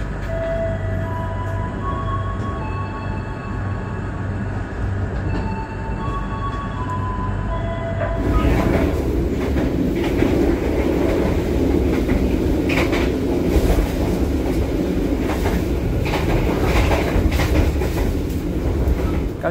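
A passenger train at a station hums and rumbles, first with a steady tonal drone, then a louder rhythmic rolling clatter of wheels on rails.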